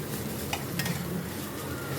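Paneer pieces frying with a spice mix in a pan for stuffed potato curry, giving a steady moderate sizzle with a couple of brief stirring scrapes near the middle, and no talking.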